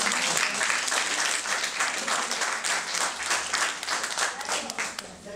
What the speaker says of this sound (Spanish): un aplauso para Lino Barbosa